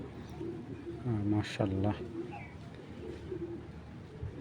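A Full Marksi female pigeon coos softly at close range, its low murmuring calls partly under a voice.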